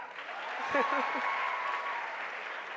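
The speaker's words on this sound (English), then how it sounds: "You can all clap also." Audience applause at a talk event with an actor, a steady dense wash of clapping through the whole stretch with brief voices cutting in near the start.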